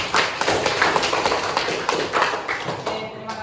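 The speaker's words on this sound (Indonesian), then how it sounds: "Tepuk tangan." A group of students at a vocational school claps in a brisk, uneven patter for a few seconds, fairly close, fading slightly toward the end.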